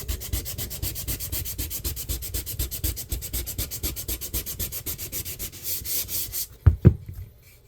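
Pine wood surface being roughed up by hand, a steady rhythmic scrubbing of quick strokes that runs close and continuous, ending with a couple of sharper knocks as the work stops.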